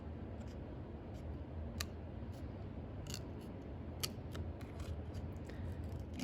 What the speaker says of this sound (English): I'm kind of tucking my scissors behind that butterfly and making